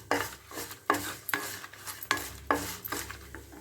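A spatula scrapes and stirs urad dal, dried red chillies and fennel seeds in a hot pan, in rhythmic strokes about every half second, with a light sizzle underneath and no talking.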